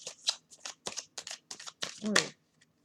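An oracle card deck is shuffled with a quick run of papery riffles and slaps, ending in a sharper card pull, heard close up with a short bit of talk.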